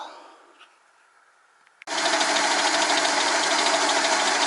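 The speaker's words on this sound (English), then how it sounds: "Just boring out the cylinder for the flame eater engine" A lathe boring out the cylinder for a flame eater engine, starting with a quiet faint workshop hum, then a sudden loud steady machining roar with a whirring grind that continues to the end, no talk.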